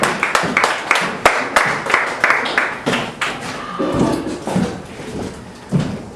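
An open mic audience at a Halloween night gives sparse clapping for a poet, a handful of separate sharp claps in an uneven rhythm, close and loosely timed, thinning toward the end.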